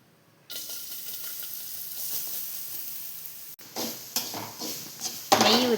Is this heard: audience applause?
no